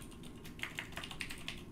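Quick, light taps on a computer keyboard as a word is typed into a software query pane, heard as a brief run of soft clicks over a steady low background hum.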